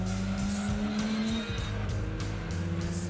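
A race car in Gran Turismo 2 brakes hard into a corner, its engine note dropping under a sustained tire squeal, loud and close with no talk.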